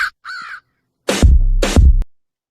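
A crow caws within a music track: a short high call followed by two loud, harsh caws in quick succession, heard clearly and alone.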